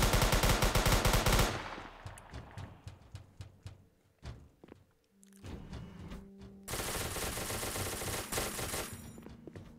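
Rapid gunfire in a Roblox SCP roleplay game: loud sustained bursts of automatic shots, a brief lull of scattered single cracks and thuds, then another long dense burst.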